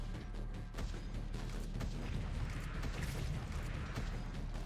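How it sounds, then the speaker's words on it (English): Explosions from the video game Rogue Genesia, a dense run of booming blasts and crashing impacts layered over continuous loud game noise, with no talking. "Those explosions sound straight out of Gundam, and I love it."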